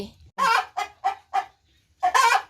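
Several short, loud clucks from laying hens in a rural Thai coop come in a quick series, followed by a louder squawking burst after a brief pause.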